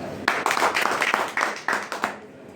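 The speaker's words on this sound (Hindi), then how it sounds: "एक बार अपनी लिए जोरदार ताली" An audience at a DXN marketing plan seminar claps along in a sustained round, sharp individual hand claps standing out from a steady rattle for about two seconds before it thins out.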